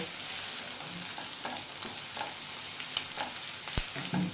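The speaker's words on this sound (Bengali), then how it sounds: "পেঁয়াজটা একটু হালকা করে আগে ভেজে নিই" Onions frying in oil on a medium flame give a soft, even sizzle with scattered spatula scrapes and a single sharp metallic clink toward the end.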